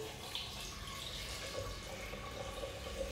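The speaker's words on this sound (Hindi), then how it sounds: "अब मैं इसके अंदर पानी डालूंगी।" Water runs and splashes steadily into a pressure cooker holding potatoes, a soft continuous pouring with faint trickling, fairly quiet and close.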